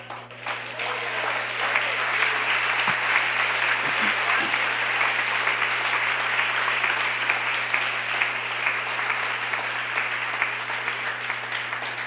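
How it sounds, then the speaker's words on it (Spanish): A church congregation at Sunday school breaks into sustained, dense applause, a steady wash of many hands clapping at once for over ten seconds, with a low electrical hum underneath. "¿Cuántos quieren aplaudirlo a Él?"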